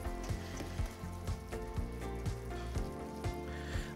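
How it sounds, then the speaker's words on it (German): Bolognese sauce simmers in a pan on low heat with a continuous soft sizzle and bubbling crackle, close and steady, with faint scraping from stirring and no voices. "ein paar Minuten auf niedriger Stufe etwas köcheln lassen"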